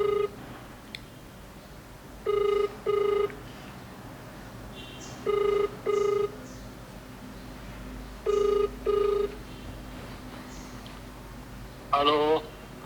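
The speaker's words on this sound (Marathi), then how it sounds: "आत्ता आपण पप्पांना फोन लावूया आणि विचारूया कुठं आहेत" A phone call's ringback tone sounds in three evenly spaced pairs of double rings over a quiet background, followed by a short burst of a different tone near the end.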